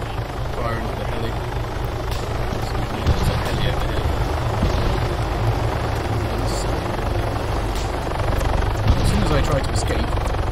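An Arma 3 helicopter's rotor drone throbs loud and constant throughout, with someone talking over it.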